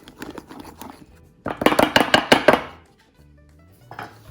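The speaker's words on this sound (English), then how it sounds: "Just whisk it very slightly." Cream is whisked into a white chocolate mix in a bowl, giving a short run of light clinks followed by a louder, quick burst of rhythmic tapping and scraping against the bowl, close up.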